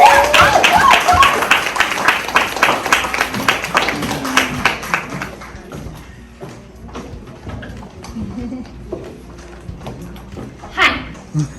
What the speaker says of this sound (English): Can we keep clapping for her till she gets here?